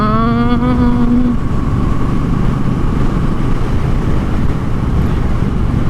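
A 2022 Triumph Bonneville Bobber cruiser motorcycle is ridden, its engine note rising briefly at the start and then settling into a loud, steady road rumble with heavy wind noise, continuous and close.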